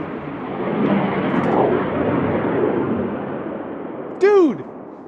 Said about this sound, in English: Oh, fighter jet! That's got to be the 4th time they've cut right through this bank here.